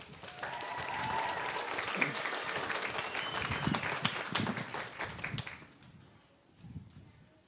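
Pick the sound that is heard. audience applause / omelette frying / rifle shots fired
audience applause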